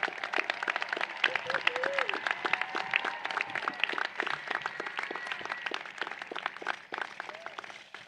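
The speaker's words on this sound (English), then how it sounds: "Let's give our alumni a round of applause." An audience at a high school graduation ceremony claps steadily throughout, a sustained round of applause from a large crowd with some cheering voices mixed in.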